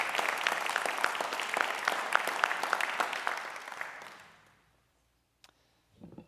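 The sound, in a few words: audience applause at alumni awards ceremony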